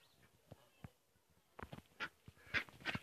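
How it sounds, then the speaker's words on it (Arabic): A farmyard duck gives several short, close quacks and nasal calls, scattered and growing more frequent toward the end, with a little farmyard noise around them. "بغى تضربني هاد البط، البطة بغى تضربني"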